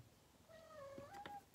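A single soft cat meow, rising and then falling, fairly faint in a quiet room, ending with a small click.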